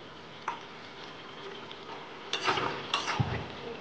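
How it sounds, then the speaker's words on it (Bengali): A lid lifts off a pot of potatoes boiling for chichinge aloo posto, with a couple of sharp metallic clanks and rattles over a low bubbling hiss, close by and fairly quiet. "ঢাকাটা খুলবো, দেখে নেবো আলু সেদ্ধ দিলাম।"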